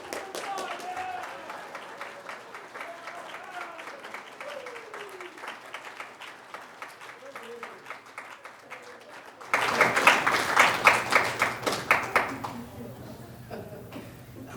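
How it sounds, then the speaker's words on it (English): An audience bursts into clapping that rises suddenly and then tapers off, following a stretch of speech-like sound and rhythmic tapping. "Just applause."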